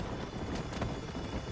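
Horse hooves galloping at a steady run in the Red Dead Redemption video game, a dense continuous clatter of hoofbeats heard up close with no talking.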